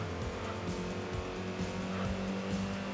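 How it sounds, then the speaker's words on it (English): An iron block inline-six car engine in the video game Enthusia Professional Racing, a steady droning hum at constant revs with low harmonic tones, continuous and moderately loud throughout. "Iron block inline 6. That sounds like a chunky motor."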